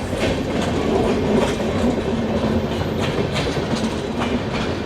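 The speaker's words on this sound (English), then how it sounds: "These long distance trains don't stop at the smaller station." The Goa Express, a long-distance train, rolls past a small station with loud, continuous rumbling and rhythmic clickety-clack from its wheels, heard close and unbroken with no talk.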